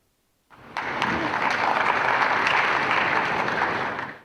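An audience at a formal ceremony bursts into applause to welcome a speaker, the clapping starting abruptly after a short silence, swelling quickly and holding full and dense for several seconds before starting to fade.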